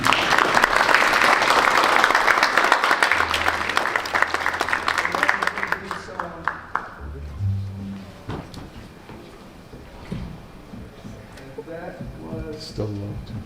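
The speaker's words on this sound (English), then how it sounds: "Feel free to applaud." Loud audience applause at a Jobim music festival concert fills the first several seconds, then fades out, leaving a quieter stretch with scattered sounds and some talking.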